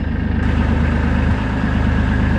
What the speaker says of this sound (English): So I'm gonna start the tractor